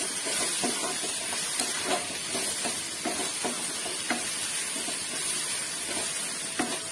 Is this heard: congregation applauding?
no